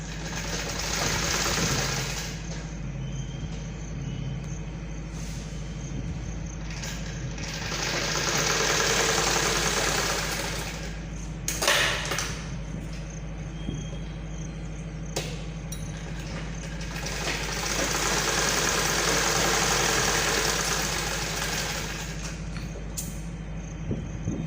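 A sewing machine stitches a folded hem for a child's body petticoat, running in a steady mechanical whir with a constant hum, pausing briefly and restarting several times.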